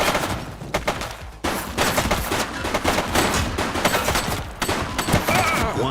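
Dense video-game gunfire in The Precinct, a rapid fusillade of overlapping shots and bursts running loud and continuous for several seconds, with a brief drop before the firing resumes.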